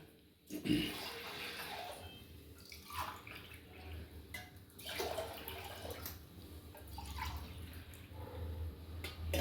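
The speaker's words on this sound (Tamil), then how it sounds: "மூணு ஆளாக்கு தண்ணி இதில் ஊற்றணும்" Faint, quiet pouring and splashing of water with a few drips and small knocks, as three measures of water are poured into a pot for cooking pearl millet rice.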